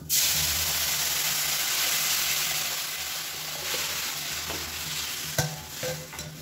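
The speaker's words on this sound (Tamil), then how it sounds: "ஃப்ளேமில் வச்சு லேசாக பரட்டி கொடுங்க." Steady, loud sizzling of spices frying in hot oil over a flame, for rasam, with a few clinks and stirring scrapes near the end; no voices.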